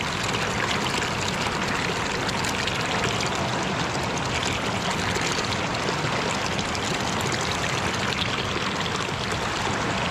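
Water from a field source on a farm flows and trickles without a break, a dense, even rushing wash that stays steady and fairly loud throughout, with no voices.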